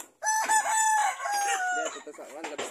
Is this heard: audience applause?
no